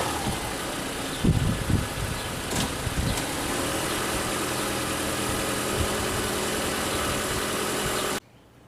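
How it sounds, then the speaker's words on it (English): A car engine idles and revs steadily as it is driven up onto a platform for an antenna mount, with a few brief clunks early on and a constant close engine drone until it cuts off. "let's drive the car up on the thing"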